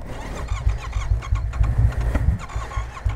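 A Yamaha MT-07 motorcycle that won't start, its engine cranking in a steady low rapid churn for about three seconds without catching, loud and close, no speech.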